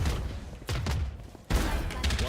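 Missile barrage in a video game: two heavy bursts of rapid launches and blasts, each surging loud and then fading, with a short quieter gap between them and no voices.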